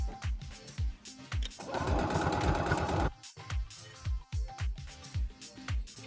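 A sewing machine stitches a hood onto a shirt collar for a cosplay costume. Short, rhythmic bursts of motor whir are broken by one longer continuous run of rapid stitching, all close and clear.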